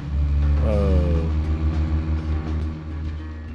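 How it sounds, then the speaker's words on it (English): A car engine in the video game Deadly Premonition: Origins hums low and steady with a brief rising whine as it picks up, then settles into a continuous rumble, close and moderately loud. "You can hear the engine even like pick up a little bit."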